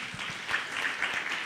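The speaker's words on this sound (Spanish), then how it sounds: "Aplauso para Mónica, por favor." Audience claps for a panelist at a corporate panel on equality, a brief, soft patter of applause heard from a distance in a large room.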